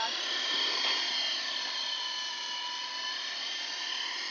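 A small remote-control T-Series helicopter flies at full throttle in an open park, giving a steady high-pitched motor whine, close and continuous.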